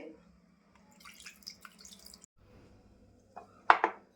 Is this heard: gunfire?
no